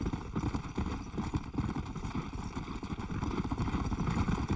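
Horses trot in a Western video game, hooves clip-clopping in a fast, steady rhythm at moderate distance, continuous and fairly faint with no talk.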